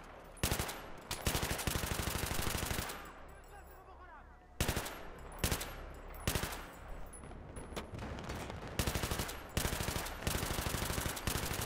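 Gunfire in Battlefield 3, rapid automatic bursts close and loud, repeated with brief pauses between volleys and a few isolated heavier shots.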